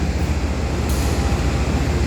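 The Doho passenger train runs along the rails, a loud, steady low rumble of wheels and carriage with constant rolling noise close by, and no one talking.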